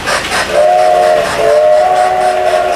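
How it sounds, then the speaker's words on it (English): A model railroad locomotive's whistle sound effect sounds twice in quick succession, a close, loud, steady multi-tone steam-style whistle, alone with no talk. "We have locomotive whistle."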